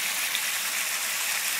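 Water gushes steadily into an armadillo burrow to flood it outdoors, a continuous close rushing wash with no pauses, fairly loud and alone.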